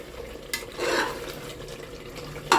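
Tripe curry sizzling and frying in a pan while a spoon stirs it, with soft scraping and a few sharper clinks against the metal, close and steady with no talking.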